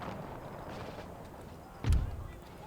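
A single cannon booms once in Empire Total War, a sudden deep thud with a short fading tail rising out of a low, noisy battlefield ambience.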